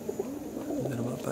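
Tippler pigeons coo softly in a short, low, repeated run, close by and fairly quiet, with faint background hiss and no talk over them.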